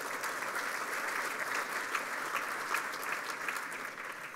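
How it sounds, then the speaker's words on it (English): An audience at a 2019 State of the City address gives a round of applause. The clapping is fairly soft and distant, an even, continuous patter with no speech over it. "Can we have a round of applause for that?"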